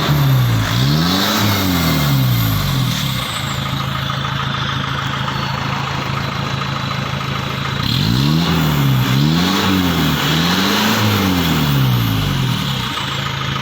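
A motorcycle engine revs hard through a loud aftermarket exhaust muffler, rising and falling in quick surges with a steady throaty rumble between them.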